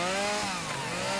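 A chainsaw runs at steady high revs, held loud and close for the whole short burst while cutting into a big, tall tree, with no voices over it.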